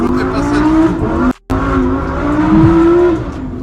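A Mitsubishi Evo engine revs hard and loudly up close, the strained tone rising and falling with a brief cut in the middle, with talking in the car during the revving.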